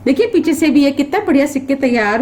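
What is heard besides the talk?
No everyday noises stand out.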